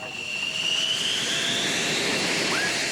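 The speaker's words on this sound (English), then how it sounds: "We rode along in a flight of 3 F-16s to see the new routine of combat air patrol and training." A flight of three F-16 fighter jets on combat air patrol, heard as a loud, steady jet-engine roar with a thin whining tone sliding slowly in pitch, continuous for the whole stretch.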